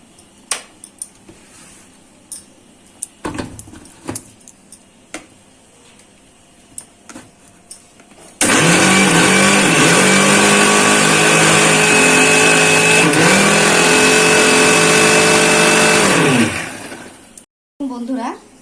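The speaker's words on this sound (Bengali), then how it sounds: "সবকিছু এইবারে দেখুন আমি মিক্সিতে বেটে নেব।" Mixer grinder blending watermelon with sugar for sherbet, starting abruptly after a few light clicks and handling sounds, then a loud, steady whirring roar for about eight seconds before cutting off, with a brief clatter at the end.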